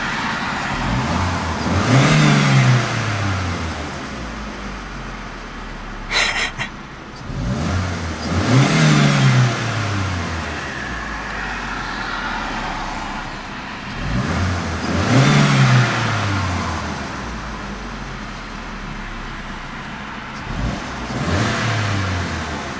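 The small 1.2-litre 16-valve engine of a 2002 Opel Corsa C is revved hard four times at regular intervals, each surge climbing in pitch and dropping back to idle, close and loud.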